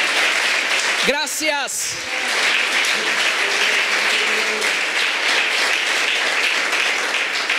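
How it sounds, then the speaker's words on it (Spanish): A church congregation breaks into sustained applause after a short spoken thanks, a dense, even roar of many hands clapping that fills the room and carries on steadily to the end. "¿Puede darle un aplauso al Señor?"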